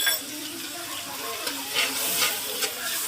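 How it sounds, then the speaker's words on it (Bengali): Spice masala of ground chilli and turmeric is stir-fried in a pan, a close, steady sizzle with short scraping stir strokes and light spatula clicks, no talk. "মশলাটা ভালো করে কষাচ্ছি।"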